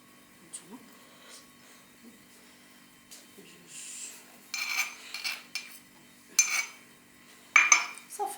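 A lemon and oud oil soap mixture being stirred in a bowl, with spoon scrapes and light clinks against the bowl in a few short bursts, quiet and close.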